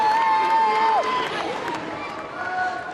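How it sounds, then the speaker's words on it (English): Crowd of kids cheering at a Commonwealth Games badminton mixed doubles match, a bright whistle-like tone at first, then a broad steady roar of support beneath. "Great support from the crowd here, the kids."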